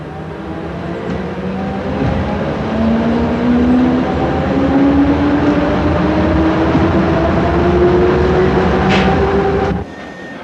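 A train runs along the Lincoln to Thursby railway line through flat country, with a loud continuous rumble and rising wheel and engine tones that hold steady before cutting off abruptly near the end; no voices.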